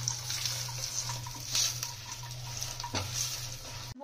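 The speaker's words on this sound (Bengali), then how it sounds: "আমাদের তেল গরম হয়ে গেছে, আমরা বড়িগুলো একটু ভেজে নেবো" Bori lentil dumplings fry in hot oil, giving a continuous, close sizzle with stirring clatter and a sharp utensil scrape before it cuts off abruptly.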